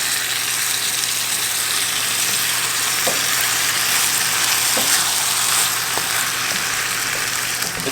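Goat meat curry fries loudly in a pot as pre-cooked rice is stirred in, a steady dense sizzle with occasional scraping and clinking of the spoon, close up and without talk.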